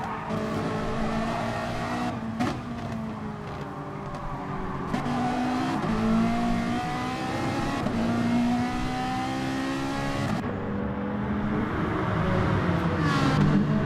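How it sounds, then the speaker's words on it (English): A Ferrari race car engine in an online racing game at the Nürburgring GP circuit, loud and close, revving continuously with rising pitch sweeps and sharp gear changes, no talk. "I could listen to that Ferrari all day long. What a glorious sounding car."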